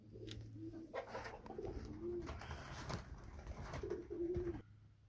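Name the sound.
pigeons cooing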